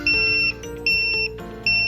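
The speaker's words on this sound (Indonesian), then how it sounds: "maka buzzer akan langsung berbunyi" Beeping from the buzzer of an ESP32 sitting-posture monitor: three loud, steady, high-pitched tones of about half a second each, evenly spaced, alone with no talk.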